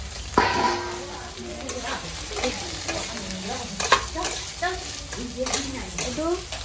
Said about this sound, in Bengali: সয়াবিনটা এবার একটু ভেজে নেব।